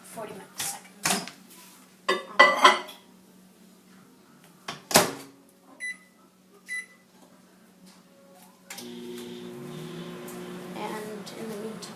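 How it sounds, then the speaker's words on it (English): A microwave oven heats half a cup of milk in a glass. Clunks and clicks from the door and buttons come first, then a steady low hum runs continuously to the end. "and I'm going to put it in the microwave"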